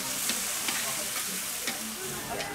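Monjayaki sizzles on a hot griddle in a Tokyo restaurant, a dense, continuous hiss with faint scraping and a few soft clicks.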